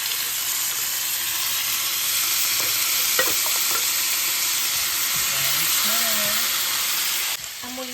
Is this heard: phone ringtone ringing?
no